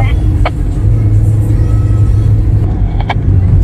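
Honda Freed car climbing a sharp uphill bend on a mountain road near Tawangmangu, a steady low engine rumble running throughout with a few faint higher clicks, close and loud.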